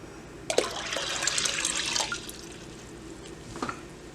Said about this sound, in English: Into our rinsed beans, going to add 10 cups of water.